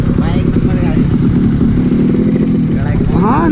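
A Yamaha RX drag race motorcycle engine runs loud and close with a rough, steady throbbing rumble, while people talk over it throughout.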